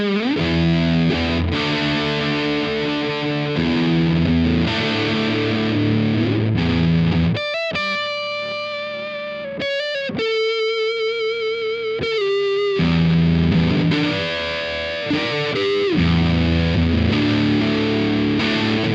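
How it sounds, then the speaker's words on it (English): Electric guitar roars through thick fuzz distortion from a Nano Russian Big Muff pedal, chugging chords giving way to sustained singing lead notes before the heavy chords return. "here is the Nano Russian Big Muff"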